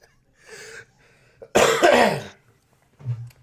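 A person coughs hard once in a burst, with quieter throaty sounds and breaths before and after, close to the microphone.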